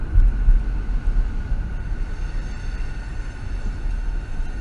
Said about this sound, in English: No, it's a train.